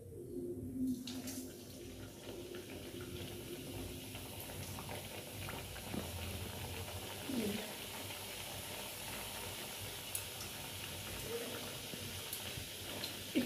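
Singaras frying in hot mustard oil, a soft, steady sizzle that keeps going throughout, fairly quiet, with a few faint clinks and bubbling pops and no voices.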